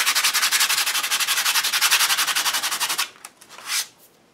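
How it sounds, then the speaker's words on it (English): Fine sandpaper rubs over painted bricks on watercolor paper in quick, even back-and-forth strokes, a rhythmic scratchy swish for about three seconds, then two short separate strokes before it stops. "I'm going to bring in a fine sandpaper and just go over those bricks a little bit."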